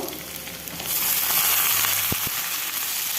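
Cut potatoes fry in a pan with a bright, steady sizzle that swells louder after the first second and stays constant, with a couple of faint knocks.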